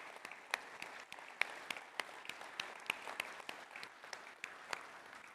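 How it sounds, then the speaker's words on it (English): Sparse applause from a small audience at the opening plenary of a land and carbon summit, steady scattered claps of moderate loudness continuing throughout without voices. "let's give them a warm applause"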